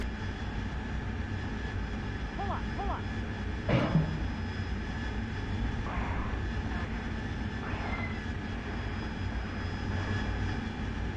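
Harrier jet in a flight simulator game, a steady, moderately quiet aircraft engine drone throughout with a brief louder burst partway through and faint background sounds.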